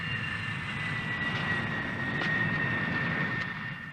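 Mirage V jet on final approach, a steady whining engine roar with a high tonal whistle, fairly loud and continuous, swelling slightly near the middle and easing off at the end.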